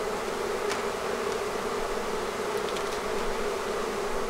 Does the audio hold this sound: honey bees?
yes